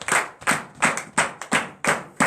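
A church congregation at a morning prayer service claps in a steady rhythm of about eight sharp, loud hand claps, with no voices over them.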